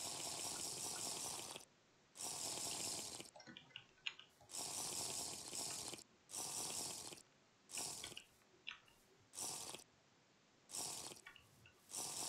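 Vacuum pump in modded Minecraft slurping water out of a pool: a repeating run of loud, hissing water-sucking bursts, each about a second long, separated by short gaps with faint splashy ticks.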